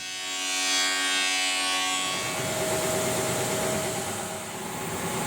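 A Timesaver wide belt sander flattening custom guitar wood, heard as a loud, steady broadband roar. In the opening seconds a tonal motor hum sits under it, then the hum gives way to a rougher continuous grind.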